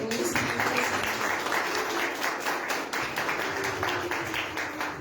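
A congregation claps during a Holy Communion church service, a steady, fairly rhythmic round of applause with a murmur of voices beneath it.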